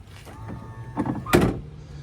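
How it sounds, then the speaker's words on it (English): An electric actuator moves the entry step on the full-size door of an overlanding vehicle. A low motor hum runs under a few mechanical clicks, followed by a louder thunk as the step settles, all close by. "It has a step here, but the step works by this actuator right here."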